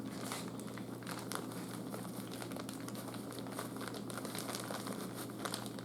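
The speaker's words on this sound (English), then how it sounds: "I'm going to put about half of this bag in here." A bag of sugar crinkles and rustles steadily up close while it is poured out to cure wild hog bacon, with a dense, continuous crackle and no talk.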